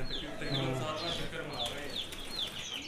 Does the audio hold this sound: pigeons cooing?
yes